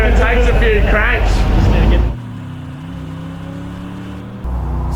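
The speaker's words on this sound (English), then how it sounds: "It's like a race motor, it takes a few cranks." A Nissan 300ZX track-build car with a race-style engine comes to life after talking stops, settling into a steady, close, humming run with a slight rise near the end; voices fill the opening seconds.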